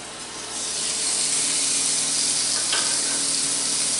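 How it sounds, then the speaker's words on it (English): Chicken sizzling on the grill of a Power XL air fryer grill, a steady, loud, broadband hiss that rises in the first second and then holds, alone with no voices. "Can you hear that sizzling?"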